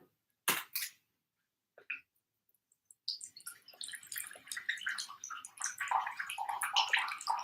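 Water and vinegar mixed half and half being poured into a pickle jar full of vegetables, a few short splashes followed by a steady, close, gurgling pour with no voices.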